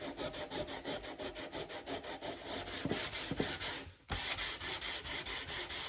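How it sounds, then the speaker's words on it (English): Hand sanding metal with 150 grit sandpaper, steady back-and-forth rubbing strokes in a regular rhythm, close and clear, with a brief pause near the end before the scraping resumes. "start sanding it until we don't feel any of that raised, bumpy texture"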